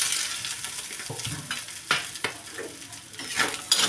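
Shredded cabbage and sliced capsicum stir-fried with eggs in a hot pan for desi-style fried rice, a hissing sizzle broken by scraping spatula strokes and a few sharp clatters.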